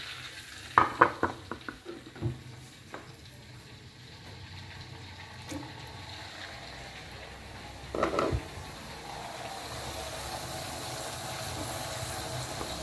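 Water is poured into a hot frying pan during a family chicken-and-tempeh cookout, opening with clattering knocks, then a low sizzle and a brief louder burst near the end; no talk.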